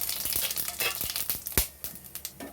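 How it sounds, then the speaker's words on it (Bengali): Whole cinnamon sticks, cloves, cardamom pods and cumin seeds sizzle in hot oil, a close crackling hiss broken by sharp pops and spits, with scraping stirs and no speech. "দুটো ডালচিনি, চারটে লবঙ্গ, দুটো এলাচ, একটু সাজিরা আমি তেলের মধ্যে দিয়ে দিলাম"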